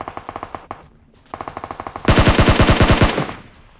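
Automatic gunfire in PUBG Mobile on the Vikendi snow map: two short rapid bursts, a brief pause, another burst, then a louder, closer sustained burst of fire.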